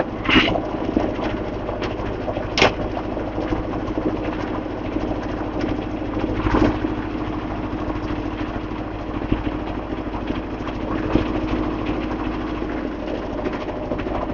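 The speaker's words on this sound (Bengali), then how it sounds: "ওয়াটার জেটটা কিন্তু রানিং করে দিয়েছে" A water jet boat engine runs steadily on a branch of the Sandhya river, giving a continuous low idling drone with a few faint knocks and no speech over it.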